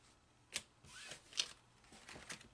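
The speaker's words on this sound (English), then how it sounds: "We're going to shuffle that over again." Oracle cards being shuffled by hand, a few crisp riffling snaps and soft slides close to the microphone in a quiet room.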